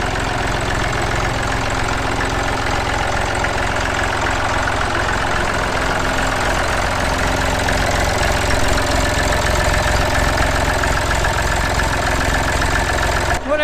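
Massey Ferguson 35X vintage diesel tractor engine running steadily at idle, a loud, close, even chugging with a knocking rhythm that continues throughout before cutting at the very end.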